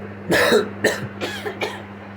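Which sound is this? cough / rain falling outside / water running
cough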